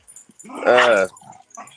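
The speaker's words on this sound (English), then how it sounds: "Walk away from the loud dogs." Two dogs scuffle with a single loud, harmonic growling whine rising and falling in the middle, surrounded by softer yips and rustling, close and brief.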